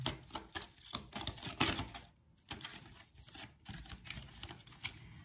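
Small cards shuffled and drawn by hand during a card reading, giving a run of quick papery flicks, snaps and soft riffles at close range with brief pauses, no talk.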